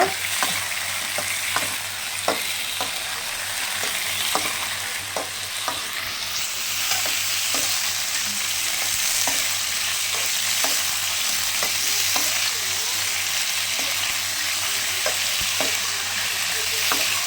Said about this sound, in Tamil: இப்போ இதை வந்துட்டு எண்ணெயில் நல்லா வணக்கிடுங்க